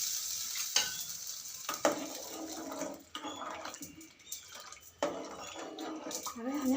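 A hot tempering (vaghar) is poured into kadhi, giving a soft, fairly quiet sizzle followed by stirring and scraping, with a few bursts of louder hiss.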